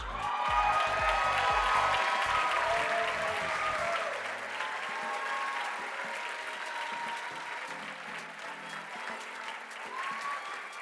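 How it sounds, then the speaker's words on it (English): A crowd at a live restaurant awards ceremony in New Orleans applauds a Los Angeles restaurant, with sustained clapping under music at the start, then a long even wash of applause that slowly thins. "A huge round of applause, please"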